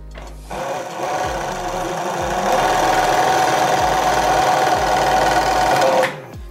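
A single-thread blind hem sewing machine runs at a steady, fast rhythmic whir and clatter, starting up, holding loud and even for several seconds, then stopping abruptly.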